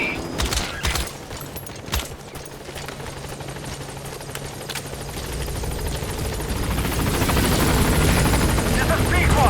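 The support helicopter Pequod arrives at a landing zone in the video game Metal Gear Solid 5, its rotor noise swelling from faint to a loud, steady roar over the clip, with a few sharp bursts early on.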